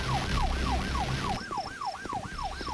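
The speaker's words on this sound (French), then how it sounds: "Là on a une voiture de flic, la sirène n'a aucune expression," Police car siren in a video game, a steady fast wail sweeping up and down repeatedly, loud and close throughout with little else beneath it.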